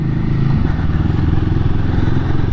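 A Royal Enfield Guerrilla motorcycle on the move, its engine a loud, steady, close rumble with a low throbbing beat and some clatter, holding throughout with no talk.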